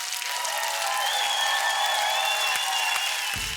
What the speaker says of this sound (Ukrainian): Зал аплодирует стоя тебе, Яна.